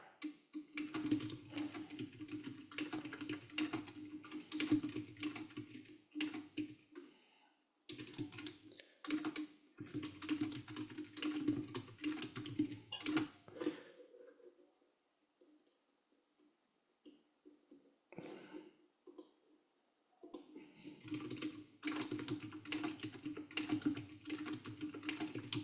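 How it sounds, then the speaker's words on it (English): Rapid typing on a computer keyboard, close dense bursts of key clicks separated by short pauses and one longer quiet gap before the typing resumes. "I can try typing it real fast here too"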